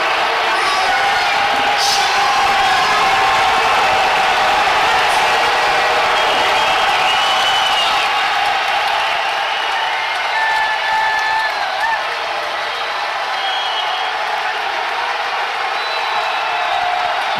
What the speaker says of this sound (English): This is by far the loudest crowd I've ever heard at any strongman competition